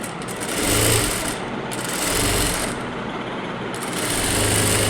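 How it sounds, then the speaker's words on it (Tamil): A sewing machine stitches lining cloth to blouse fabric in a continuous close whirring run, speeding up and slowing in a few gentle surges with a steady mechanical hum underneath. "இப்போது இதில் நம்ம லைனிங் கிளாத்தை மேலே ப்ளவுஸ் துணியை வச்சு ஒரு தையல் போட்டுட்டு வரலாம்"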